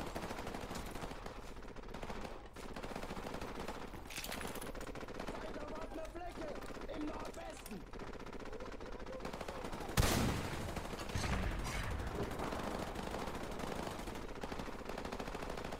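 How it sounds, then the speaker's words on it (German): Steady automatic gunfire in the video game Call of Duty Modern Warfare Remastered, a continuous rattling battle din with one sharp louder blast partway through, a voice speaking now and then over it. "Der schießt."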